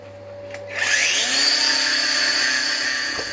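A power tool is spinning up to cut back a weld tack on a Ford Escort MK1 car panel during a restoration. The whine rises sharply, then holds as a high, steady, close scream for a couple of seconds.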